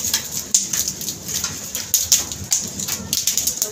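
Heavy rain with big drops falls as a dense, hissing wash, broken by sharper individual impacts at an irregular rhythm. The rain sounds loud and close, and no one speaks.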